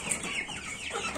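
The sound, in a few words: chickens clucking, three-month-old chicks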